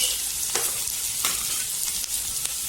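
Mushrooms frying with masala in a pan, a continuous bright sizzle with several scraping stirs of a spoon, close and fairly loud.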